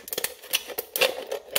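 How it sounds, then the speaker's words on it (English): Scissors gouge and cut open an aluminum can, producing a quick series of sharp, close metallic snips and crinkles in an irregular rhythm. "I usually start by gouging it open with some Sharpie scissors"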